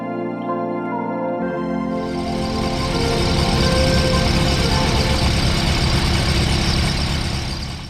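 A steady, loud drone from a Viper SD-4 light sport aircraft engine idling, rising from a lower hum to a fuller, rougher roar and holding there, with no voices.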